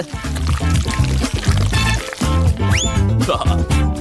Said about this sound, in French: Je vais verser le chewing-gum liquide à l'intérieur.